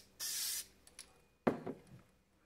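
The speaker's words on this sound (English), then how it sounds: "I'm just going to spray a little bit more for good measure." A short hiss of spray adhesive from an aerosol can lasting about half a second, followed by a pause, small clicks and a louder scuffing thud, while patching a window screen.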